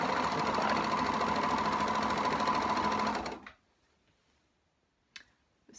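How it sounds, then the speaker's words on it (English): Serger overlock sewing machine stitching along a fabric edge, a loud continuous rapid whirring hum for about three seconds that stops abruptly, followed by near silence and a couple of faint clicks. "So, yes, I am kneeling in front of my serger."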